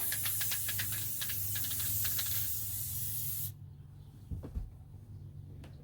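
A spray can hisses in a steady burst with a few rattling spurts, then stops abruptly, followed by a couple of soft knocks.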